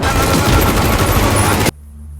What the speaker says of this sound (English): Hey, listen closely to this gun right.